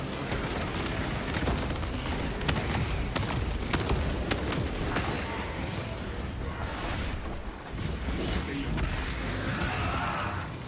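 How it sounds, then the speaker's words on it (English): Dense, continuous weapon fire from a plasma pistol in the Warhammer 40K Deathwatch video game, rapid overlapping shots and blasts filling the whole stretch at steady loudness, with faint voices mixed in. "I used the plasma pistol"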